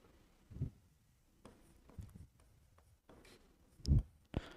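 Writing out a math equation on a board or page, with scattered scratchy strokes and taps of the writing tool in short, irregular bursts, quiet and close.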